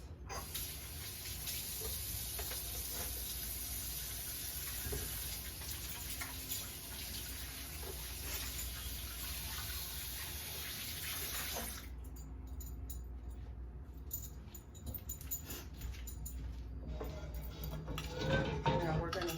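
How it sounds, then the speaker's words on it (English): A kitchen tap runs steadily for hand washing and then stops partway through, leaving quieter room sound with light clinks of dishes. "let me wash my hands"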